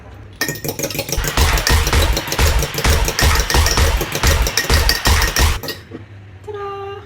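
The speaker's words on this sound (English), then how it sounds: "One whisked egg." An egg being whisked in a cup for an empanada egg wash: a fast, loud, steady rhythm of close clinking strokes for about five seconds, then stopping, with no talk.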